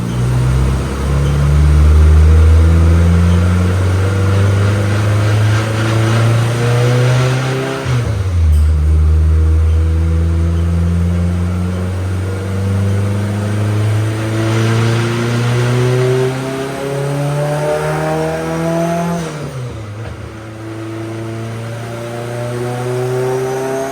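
Turbocharged Honda S2000 drift car revving on a dyno, engine pulling up through rising revs, dropping sharply at each shift and climbing again, loud and close, with no talk.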